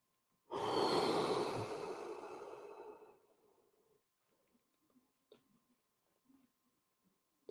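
One long, loud exhale sigh close to the mic during a stretching session, tapering off over a few seconds into near silence with a few faint small knocks and rustles.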